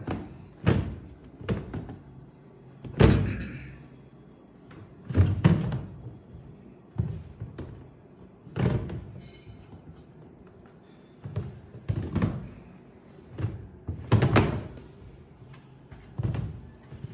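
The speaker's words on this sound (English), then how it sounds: "Open, close, open, close, open, close." An empty wooden drawer in a bookshelf is pulled open and pushed shut again and again, giving a steady series of near, hollow knocks and slides, about a dozen in all, with no talking.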